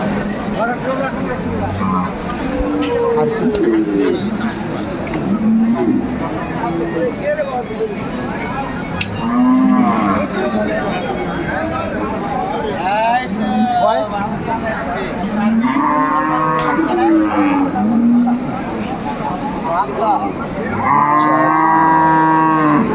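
Cattle at a livestock market in Jamalpur low repeatedly, several moos rising at intervals over a steady background of crowd chatter and people talking nearby.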